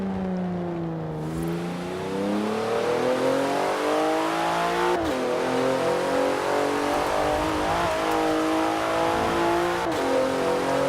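A car engine in the Forza Horizon 4 racing game revs and shifts through gears with a steady synthetic-sounding drone, rising and dropping in pitch continuously, loud and upfront.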